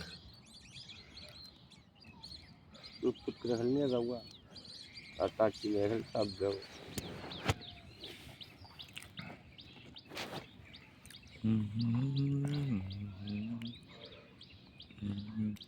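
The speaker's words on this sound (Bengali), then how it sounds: "কিচির মিচির ডাক।" Faint, scattered morning bird chirps and tweets by a river run through the background while people talk in the foreground at intervals.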